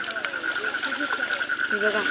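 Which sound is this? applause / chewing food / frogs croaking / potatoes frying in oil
frogs croaking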